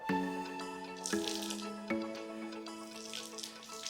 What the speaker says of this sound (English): I'm going to wring it out again.